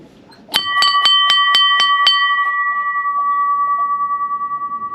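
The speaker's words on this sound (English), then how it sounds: "Ring the bell to let us know when you made it to the top." A bright metal bell at the top of Bircham Mill, a windmill in North Norfolk, is struck about seven times in quick, even succession, then rings on loud and clear with a long, slowly pulsing decay.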